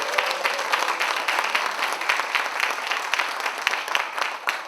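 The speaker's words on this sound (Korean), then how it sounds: "뜨거운 박수 한번 감사합니다" A crowd at a foundation chapter founding ceremony in a hall claps steadily, sustained dense applause with individual sharp claps standing out throughout.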